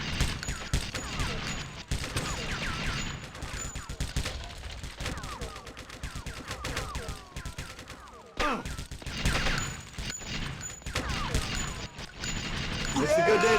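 Rapid gunfire in True Crime: Streets of L.A. rattles in dense bursts through most of the stretch, loud and close, with a brief break and game effects mixed in.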